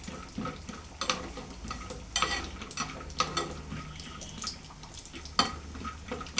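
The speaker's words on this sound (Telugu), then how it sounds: "1 నిమిషం పాటు ఇది ఫ్రై అవ్వాలి." Gentle frying in a kadai while making bottle gourd kheer, a soft continuous sizzle broken by intermittent stirring scrapes and light clinks of a spoon against the pan.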